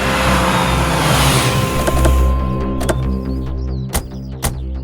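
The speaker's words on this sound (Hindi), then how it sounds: "चलिए, आप गाड़ी को पीछे लेके जाइए।" A car manoeuvres in reverse, its engine running loud and steady up close, with a few sharp clicks and a brief hiss toward the end.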